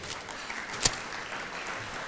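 Steady clapping from a banquet audience at an awards celebration fills the room as a dense, even patter, with one louder sharp clap near the middle.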